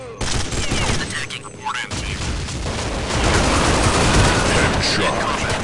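Rapid CROW-5 gunfire in Counter-Strike Online, with sustained loud bursts and booming impacts running almost without pause, a brief lull near the beginning, then dense continuous shooting.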